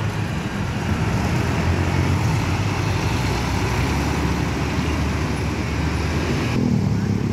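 A Sempati Star double-decker bus, one of the first on Sumatra, passes through city traffic at a roundabout, its steady engine rumble and road roar loud and continuous among other vehicles.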